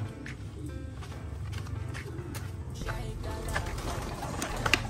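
Racing pigeons coo and shuffle close by in a loft, soft murmuring calls over light rustling and footsteps, with faint talk in the background.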